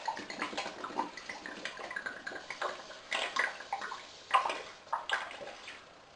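A whole bottle of red wine pours into a pot of spaghetti bolognaise, a steady glugging liquid stream with irregular splashy surges, close and moderately loud, with no talking.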